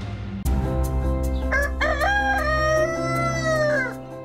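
A rooster crows loudly and close at an animal rescue village, one long drawn-out cock-a-doodle-doo rising after a sharp start and holding for about three seconds before trailing off.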